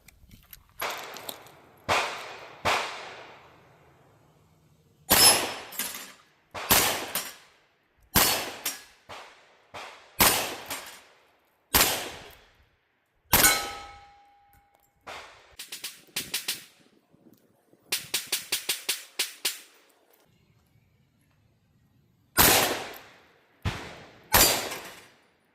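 A Rossi .357 revolver fires Armscor .38 Special rounds at steel targets outdoors, sharp loud shots with ringing tails coming singly and in quick strings of several, with quiet pauses between groups.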